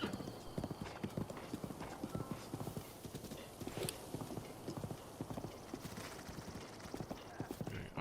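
Horse hooves pound in a steady galloping clip-clop rhythm in the video game Zelda: Breath of the Wild, with a brief whinny over continuous loud movement and no talk.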